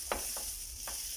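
Butter crackles and sizzles in a hot frying pan for crepes, a steady hiss with a few soft scraping stirs.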